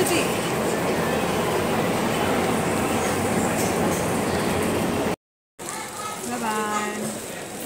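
A passenger train at New Jalpaiguri station rumbles and rattles along the rails in a steady, loud, continuous roar, with a short break and then voices talking nearby over the train noise.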